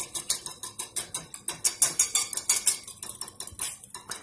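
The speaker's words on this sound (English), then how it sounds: "So let it get warm, and then you can kind of just whisk it up." A whisk rattles against a pot while cream cheese is mixed into warming heavy whipping cream for fettuccine alfredo, with quick rhythmic metallic clicks and scrapes, close and steady, no speech.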